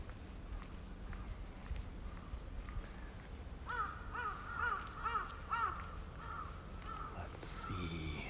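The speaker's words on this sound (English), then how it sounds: "The crows are communicating" A series of loud, harsh caws from a crow on a Tokyo street, repeated about a half-dozen times in a steady run over low city background noise.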